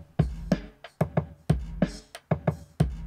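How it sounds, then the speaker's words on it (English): A simple boom bap drum beat plays alone, with punchy kick and snare hits in a steady, loping groove of about a dozen strokes. "let me play the drums for you a little bit"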